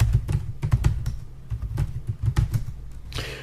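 Typing a Unix password on a computer keyboard: close, irregular clusters of key clacks in quick bursts, ending with a softer rustle.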